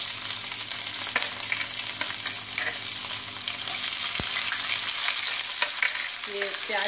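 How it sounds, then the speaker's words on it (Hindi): Onions frying with ginger and cumin in oil, giving a loud, even, continuous sizzle close up, broken by a few stirring clicks and a single sharp knock. "ये प्याज हमने इसमें डाल दिया है।"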